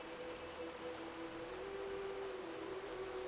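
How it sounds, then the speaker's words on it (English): Rain falls in the VRChat game world as a soft, even patter, faint and continuous with a low steady hum beneath it and no voices. "I've just been standing in the rain this whole time, haven't I?"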